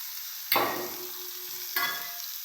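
Pumpkin pieces and onions sautéing in a pan, giving a steady soft sizzle with two brief louder bursts of stirring or tossing, close by.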